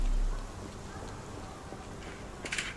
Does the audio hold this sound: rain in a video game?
yes